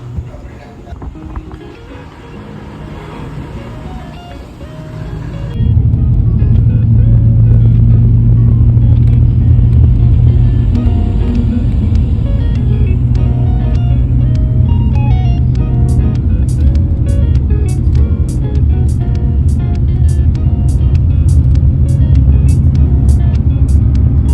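Booked car travelling by road to Kerala, a steady low engine and road rumble that grows louder after a few seconds and holds constant, with faint ticking later on.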